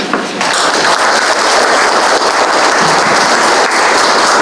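Steady, dense applause from a crowd at a policy forum, sustained throughout at a fairly loud level with no talking over it.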